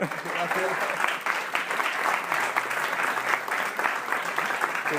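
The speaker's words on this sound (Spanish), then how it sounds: "Un aplauso para ellos." Steady applause from an audience at the end of a talk, continuous clapping at an even loudness throughout with no pauses.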